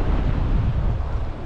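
Strong wind blasts across an island shore during a fishing trip, a loud, steady low roar of buffeting gusts against the microphone for a brief moment.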